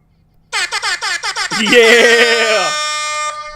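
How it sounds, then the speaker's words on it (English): An air horn sound effect blares on a podcast, a rapid series of short staccato blasts followed by one long sustained honk, loud and close. "Give me an air horn."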